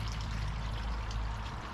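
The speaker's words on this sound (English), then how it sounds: "She got a little water fountain. She likes a little sound." A small garden water fountain in a backyard flower garden gives a steady, close, continuous splash and trickle of falling water, with no voices.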